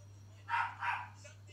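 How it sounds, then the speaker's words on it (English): A dog gives two sharp barks, fairly faint and somewhat distant, over a steady low electrical hum in an otherwise quiet room. "my dog is actually going ballistic."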